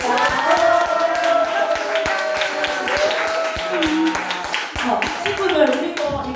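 A congregation at a church children's worship service breaks into brisk, sustained hand clapping, many sharp claps close together, while a voice keeps talking over it.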